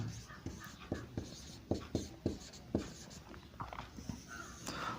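A marker or pen writes a chemistry word on a board in a string of quiet, close scratching strokes with irregular rhythm, each stroke a soft brief scrape against a low background hush.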